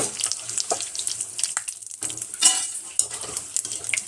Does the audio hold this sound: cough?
no